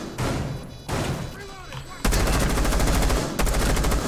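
Automatic gunfire in the tactical shooter Rainbow Six Siege: loud sustained bursts of rapid shots, a short volley followed by a longer unbroken stream near the end.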